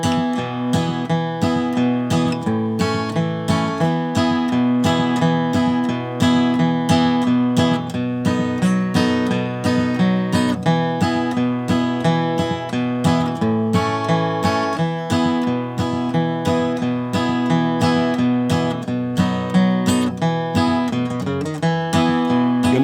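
An acoustic guitar plays a song in a steady pick-and-strum pattern, a bass note followed by chord strums in a regular rhythm, close and clear with no voices.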